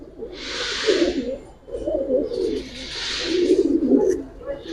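Pigeons, including Giribaz and high-flyer breeds, coo in a steady rolling murmur. Two long bursts of cooing run nearly continuously, with soft rustling behind them.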